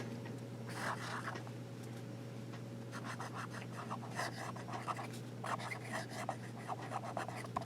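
Medium nib fountain pen writing on paper, producing faint, close squeaky strokes and light scratches in irregular bursts as letters are formed, with no talking.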